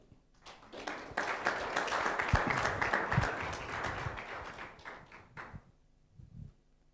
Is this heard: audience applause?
yes